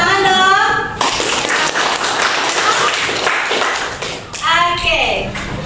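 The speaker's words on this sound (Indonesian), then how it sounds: "Tepuk tangan dong." A classroom of students clapping together, a burst of hand claps between stretches of a teacher's voice, fairly close and loud.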